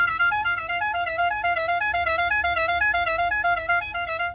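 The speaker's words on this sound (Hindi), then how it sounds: "फ्रेश मोला jet for you with truck वाला हॉर्न फॉर यू" A musical multi-tone truck-style car horn plays a continuous warbling melody, loud and close, with a low engine rumble underneath, at an auto show in Islamabad.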